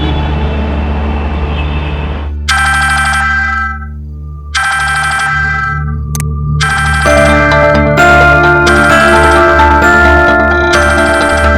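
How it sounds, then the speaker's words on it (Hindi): A bright electronic phone ringtone plays in repeated bursts with short gaps, loud and close, over a low background hum, late at night. "सोना इतनी रात को फोन क्यों कर रही है?"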